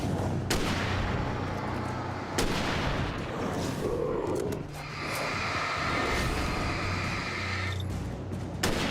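Gunfire in the Alan Wake horror game, with several loud booming shots spaced a few seconds apart over a dense rumbling background, along with some fainter tonal game sounds.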